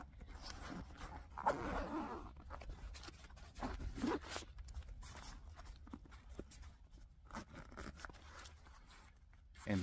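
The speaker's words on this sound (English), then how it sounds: "So this back panel zips open." Zipper on the back panel of a Big Agnes Prospector 50L backpack being drawn open in several short rasping pulls, separated by handling rustles and scrapes, close but quiet.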